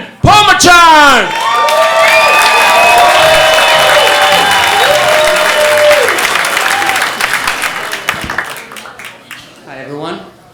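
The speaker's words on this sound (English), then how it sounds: "Ladies and gentlemen, how about a big round of applause for Vien, Phommachanh!" Comedy club audience at a comedy bootcamp show gives loud, close applause mixed with whoops and cheers, which peak early, then thin out into scattered claps as someone begins talking.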